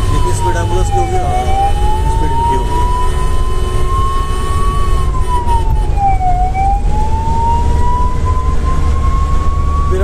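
Ambulance siren (hooter) on an ICU ambulance carrying a critical patient, wailing continuously and loudly from close by, rising and falling slowly over steady engine and road rumble.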